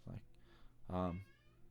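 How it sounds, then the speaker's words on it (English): An indoor cat meows at a closed bedroom door, trying to get into the room: a brief close cry at the start, then a longer, louder, drawn-out meow about a second later. "My cat's trying to break into my room right now."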